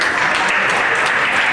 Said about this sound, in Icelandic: Gefa þeim gott klapp.